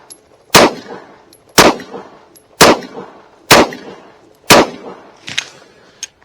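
Five evenly spaced shots from a Ruger 9E pistol, each followed by a ringing clang as the round strikes a steel target, loud and close with short gaps, then a fainter final impact.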